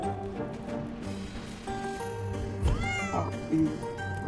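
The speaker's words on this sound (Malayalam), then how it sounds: "മറ്റേ പൂച്ച" A cat meows a few times in a drawn, wavering voice, fairly close, with soft background rustle and no talking.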